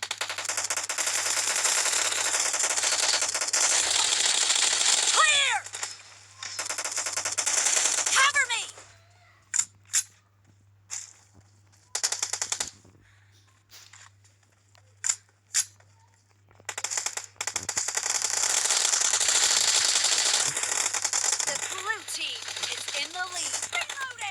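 Rapid bursts of automatic M4 rifle fire in a first-person shooter game, loud sustained volleys broken by a few short single shots and pauses, with brief breaks of near silence between.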